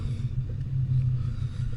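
A 1000hp Ford Mustang idles with a deep, steady low rumble while backing up at night, close by and fairly loud, with slight wavering in the engine note and no talk over it.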